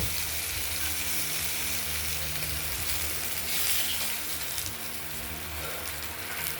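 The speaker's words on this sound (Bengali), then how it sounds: "ভাজতে একটু সময় লাগবে মাছের পিসগুলো ভাজা হয়ে গেছে" Pieces of katla fish frying in hot oil give a steady, dense sizzle throughout, fairly quiet and unbroken, with no talking.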